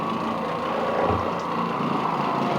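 An Oreck Orbiter floor machine scrubs carpet with a bonnet pad, producing a loud, continuous motor drone with a rough, slightly rumbling texture that holds steady and has no voices over it.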